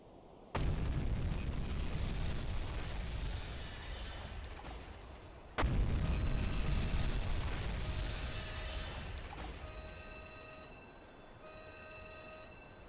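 Torpedo hits from a U-boat strike heavy explosions on ships in the Uboat video game, two deep booming blasts a few seconds apart, each followed by a long rumbling decay and faint metallic ringing tones.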